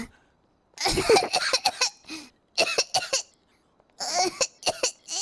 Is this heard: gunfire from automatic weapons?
no